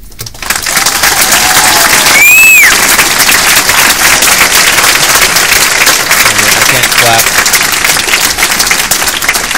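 An audience in a student meeting hall applauds after a speech, a dense steady wash of clapping close by, with a few whistles and indistinct voices mixed in.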